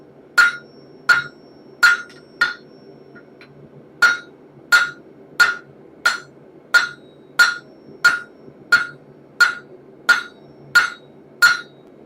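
Hammer forging a hot axe head on an anvil, about fifteen sharp ringing metallic strikes in a steady, even rhythm, close and loud, with no talking.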